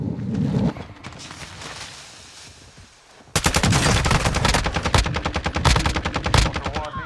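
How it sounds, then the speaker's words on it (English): Automatic gunfire rattles in Call of Duty Warzone DMZ, a few shots early, then a lull, then a loud sustained burst of rapid rounds close by. "You are taking effective fire."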